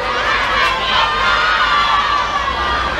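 A loud crowd of children and adults shouts and cheers continuously, a dense, sustained roar of excited voices at a live music event.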